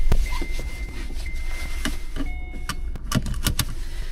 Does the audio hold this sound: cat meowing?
no